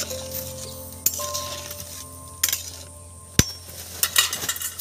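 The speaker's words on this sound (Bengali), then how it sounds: "দিয়ে একটু নেড়ে চেড়ে দেবো বন্ধুরা" Potatoes being stirred with salt in a pan, with scraping and light metallic clinks of a spoon against the pan, one sharp knock partway through, steady cooking noise beneath, no talk.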